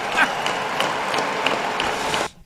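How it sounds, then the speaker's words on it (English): Audience clapping enthusiastically after a political speech, a dense, steady wash of applause with scattered sharper claps that cuts off abruptly near the end. "Everyone just like ecstatically clapping."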